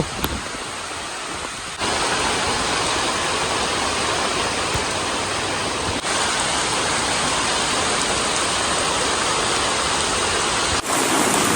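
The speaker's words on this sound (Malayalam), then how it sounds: "മഴ കൂടി കുട എടുത്തിട്ടില്ല" Heavy rain pours down in a dense, steady roar, loud and continuous with no voices, intensifying after the first couple of seconds.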